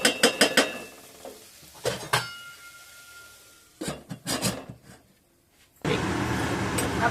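Metal utensils and a pan lid clatter sharply while spring onion sabzi cooks, sending several close clinks and knocks in short bursts between quiet gaps, then a steady sizzling hiss rises at the end.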